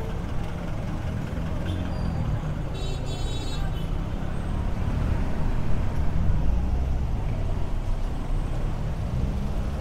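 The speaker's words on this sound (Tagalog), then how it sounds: "Maraming kotse, traffic." Dense road traffic with many cars, buses and trucks in Manila, heard from a MINAL MS601 full-suspension electric mountain bike: a loud, continuous roar of engines and tyres, with a brief horn toot early on.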